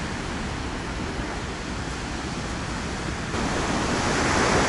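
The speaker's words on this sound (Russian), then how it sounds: "Отсюда я уже вижу волны невероятной красоты." Sea waves surge and break steadily on the shore at Alanya, Turkey, on a January day, a continuous broadband wash of surf that swells louder toward the end, with wind noise on the microphone and no voices.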